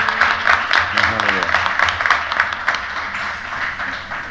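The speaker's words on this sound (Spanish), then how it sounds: "si ustedes quieren, les dedicamos un aplauso" Applause from a carnival audience at a traditional event in El Tablero de Maspalomas, a steady patter of many hands clapping close by while voices talk over it, fading slightly toward the end.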